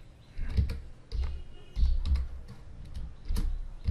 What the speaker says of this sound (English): Just type exactly what I have typed